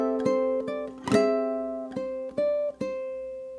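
A ukulele plays measure 18 of Scott Joplin's ragtime piece The Entertainer, a short phrase of plucked and strummed notes in an uneven rhythm, clear and close, with each note ringing out alone.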